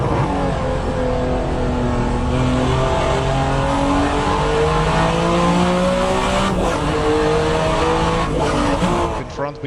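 A Group C race car laps Laguna Seca in a sim racing game, its engine loud and close, revving up through the gears and easing off into corners, with tires squealing and a voice talking over it throughout.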